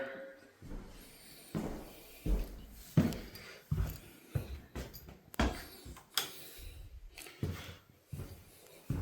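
Close, repeated clunks and sliding knocks as closet doors are opened and shut again and again in an irregular rhythm, with no talking.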